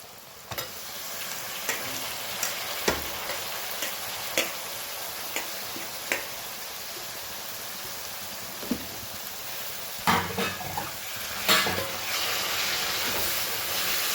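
Spinach frying in a pan while being stirred, a steady sizzle broken by scattered sharp scraping clicks of the spoon against the pan, close and continuous.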